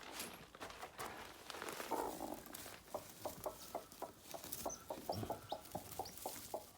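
Hens cluck in a steady rhythmic series of short, soft calls close by in a backyard coop with newly hatched chicks, with light rustling and pecking between clucks.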